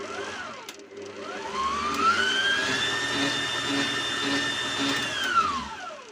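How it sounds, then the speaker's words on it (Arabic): An electric hand mixer beats a cake batter of white vinegar, sugar and oil, a steady whirring motor hum that holds its pitch through the run and rises and falls in tone as the beaters work. It is loud and close, with no talk. "هنحط نص كوبايه زيت، وهنضرب كل المكونات دي مع بعض كويس"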